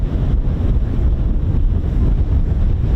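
Strong, gusty wind buffets the microphone outdoors at an air weapons range, a loud, continuous low rumble with fluttering surges and no voices.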